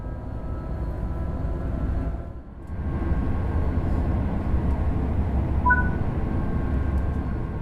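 Steady low rumble of a train rolling along the track in the video game Train Sim World 3, constant and fairly loud, with a brief dip midway and a short high tone near the end.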